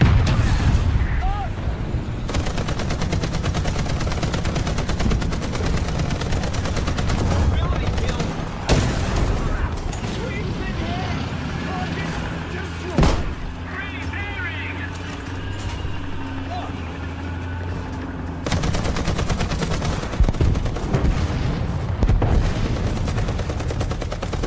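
Tank cannon blasts and machine-gun bursts in War Thunder ring out in dense, repeated volleys, with a few sharper booms standing out while someone talks loudly over the battle.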